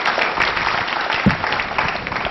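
Audience applause on an Indian Doordarshan quiz show, a steady dense patter of clapping throughout with one sharper thump partway, no talking.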